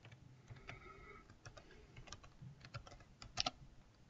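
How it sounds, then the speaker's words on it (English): Typing on a computer keyboard while coding a terminal emulator: a faint, irregular run of soft key clicks with a few louder taps, close and alone over low background noise. "I will just type"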